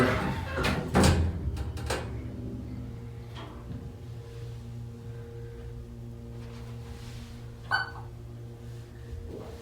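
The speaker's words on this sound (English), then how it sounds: "That's the doors." Old Dover hydraulic elevator doors slide and clunk inside a building, with a sharp thump and rattle near the start, a steady low machine hum throughout and another brief knock later on.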